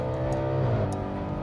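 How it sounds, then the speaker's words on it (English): An Audi 4.2-litre V8 with a DSG gearbox revs in sport mode, a brief, close, harmonic engine tone that swells and settles within a moment. "DSG farts are so much better when they're paired with a V8 that sounds like this"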